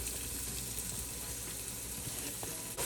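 Sausage fries in olive oil in a soup pot, giving a steady, quiet sizzle and crackle that holds evenly throughout without any talking.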